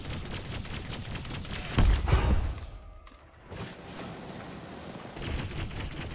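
A plasma SMG fires in the video game Elite Dangerous: Odyssey, a dense continuous stream of rapid crackling shots with a heavier burst midway and a brief gap, loud and busy.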